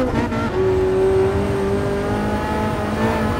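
Race car engine held at full throttle in second gear in Gran Turismo Sport, a loud continuous roar with a steady rising whine and a faint tire squeal.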